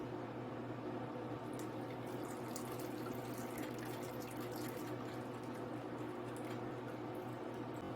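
Tamarind water pours steadily into sambar with a continuous watery rush and faint splashes, under a low constant hum, close by.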